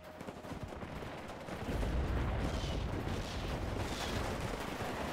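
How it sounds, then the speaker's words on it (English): Artillery fire in the video game WARNO: a dense, continuous barrage of rumbling blasts and crackling gunfire that swells louder after the first couple of seconds and stays heavy throughout. "Artillery is aiming at me."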